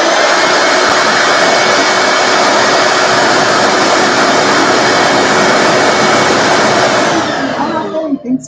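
Loud, steady roaring whine from vacuum drilling equipment working on a Ducati MH900e fuel tank, continuous and close for most of the clip before cutting off near the end with a few clattering knocks.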